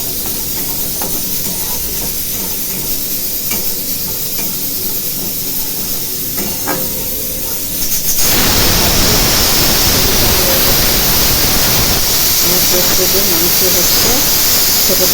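A large pressure cooker holding meat with plenty of gravy hisses steadily with steam, then the hiss jumps suddenly louder and harsher about halfway through and stays strong to the end.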